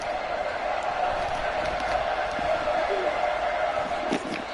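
Stadium crowd roaring at an American football game in New Orleans, a loud sustained wash of cheering that holds steady throughout, with no clear breaks.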